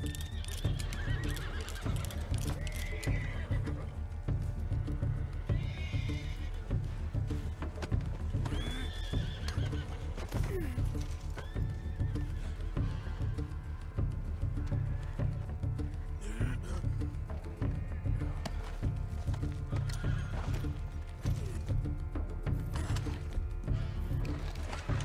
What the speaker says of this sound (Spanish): Está mi caballo.